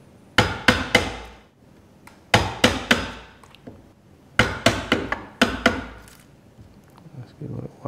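Loud, sharp hammer blows drive a Marples splitproof chisel into wood, landing in quick clusters of three or four strikes separated by short pauses, close and crisp with a ringing tail on each hit.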